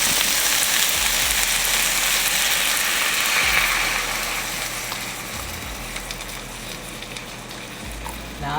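Heavy cream stirred in a pan for steak tortellini pasta, a loud, steady sizzling and scraping wash that fades slightly toward the end, with no talk.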